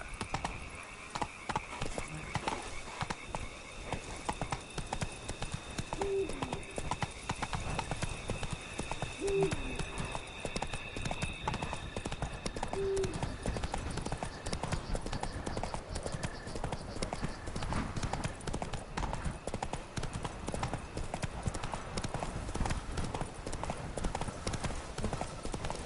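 Roach the horse galloping in The Witcher 3, a fast steady clip-clop of hooves running the whole stretch with a few short whinny-like calls and a quiet game soundscape underneath.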